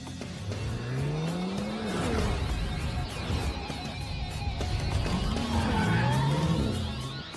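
An underpowered race car's engine in an anime revs and rises in pitch through two acceleration sweeps, with tire squeal and a continuous roaring drive under the sound.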